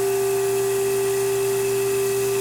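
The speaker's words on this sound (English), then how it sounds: "That humming you hear is just sort of the resonant vibration on that cutter" A steady, unbroken tonal hum with a buzzy mechanical edge, a cutter resonating as it spins in a drill chuck while finishing knife handles, constant and close.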